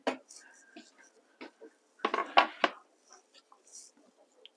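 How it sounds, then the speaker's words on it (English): A knife chops a small onion on a chopping board in a home kitchen, giving a cluster of short sharp taps around the middle with a few scattered cuts, while a person talks quietly. "We're going to chop some onions and try not to cry."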